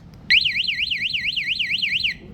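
A motorcycle security alarm signals unlock with a loud, fast-warbling electronic tone that wavers up and down for nearly two seconds before stopping abruptly, close by and alone.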